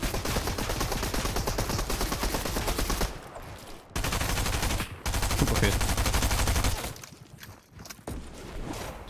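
Rapid automatic gunfire in Fortnite, bursts of sustained spraying broken by short pauses, loud and close.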